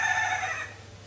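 A chicken outside in front of a school, one fairly close crow that holds and then fades away within about a second, heard on its own with no talk.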